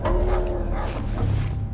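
Dogs bark in The Last of Us Remastered video game, a few short barks and yips close by against low game ambience.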